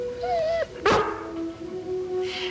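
A dog lets out a whimpering whine, then a single sharp bark, followed by a long, drawn-out whine, all close and clear with no voices around it.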